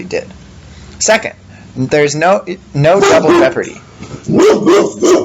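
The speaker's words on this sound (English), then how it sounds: "That's my dog." A pet dog barks a few short, sharp times indoors, close by and partly overlapping a man lecturing.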